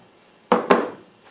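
Apple filling scraped and folded into pumpkin cake batter, two quick close clatters of a utensil against a bowl followed by a soft fading scrape, with no talking.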